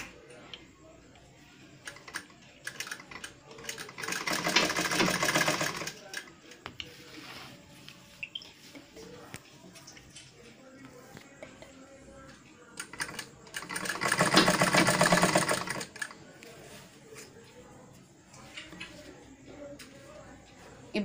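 A sewing machine stitches a curved seam on a blouse sleeve in two short bursts of rapid mechanical clatter, separated by quieter pauses with a person talking.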